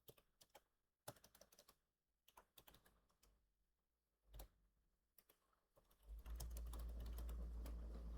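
Typing on a computer keyboard in MS Word, bursts of quick clicking keystrokes separated by short pauses, fairly close and clear, ending in a low steady hum.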